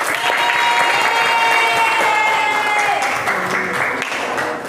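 Classroom applause for a student group presenting in a teacher-training lesson, a steady dense clapping that fills the whole stretch at close range, with a few voices mixed in.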